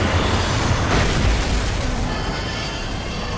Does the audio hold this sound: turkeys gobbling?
no